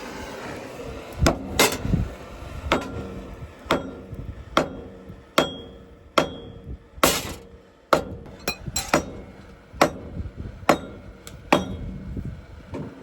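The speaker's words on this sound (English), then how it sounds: "Stick that hammer in the left tap right there." Steady hammer blows ring out on metal, about one strike per second, each a sharp clanging hit with a brief metallic ring, heard close and alone.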